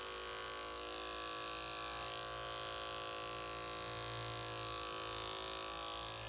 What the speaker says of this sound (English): watch what happens when I go really slow with the clipper